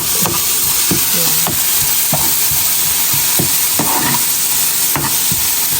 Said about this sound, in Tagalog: Nagluluto pa lang kami.